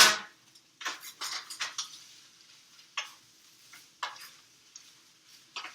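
Peppers, onions and cauliflower rice being stirred in a pan, giving a quiet run of scattered scrapes and clinks spaced irregularly over a faint background, with no voices.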